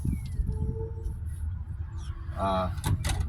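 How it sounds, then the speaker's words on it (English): A school bus door latch is worked open and shut during a pre-trip inspection: a rattling mechanical clunk, then a sharp click, heard close over a steady low rumble. "Door latch opens properly."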